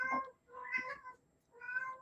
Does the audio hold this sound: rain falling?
no